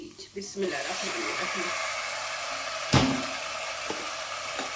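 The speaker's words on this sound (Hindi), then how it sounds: "अब इसके अंदर डाल देंगे कलेजी" Chicken liver hits a hot pan and fries with a broad, steady sizzling hiss, with one sharp knock of a utensil partway through; a voice speaks briefly at the very start.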